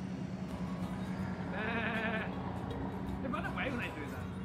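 Sheep bleating in a field during a Tasmania road trip, two wavering calls a couple of seconds apart over a steady outdoor rumble, moderately near.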